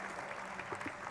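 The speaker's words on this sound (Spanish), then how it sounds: "Un aplauso, por favor." Seminar audience applauding steadily, a dense even patter of clapping with no pauses throughout the short stretch.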